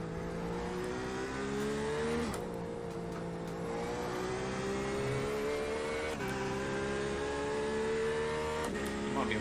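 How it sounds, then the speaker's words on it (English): Engines of LMP2 race cars in iRacing at the Nürburgring whine and climb through the gears in a steady rising drone, with brief shifts punctuating the tone. "Here come the LMP2 cars."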